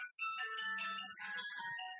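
A mobile phone ringing from across a room, a bright electronic melodic ringtone of tonal beeps and chimes playing continuously, somewhat distant and clear, with no talk over it.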